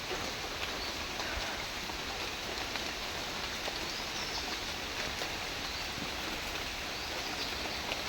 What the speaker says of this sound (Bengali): সকাল সকাল দেখেন বৃষ্টি পড়তেছে আর কি।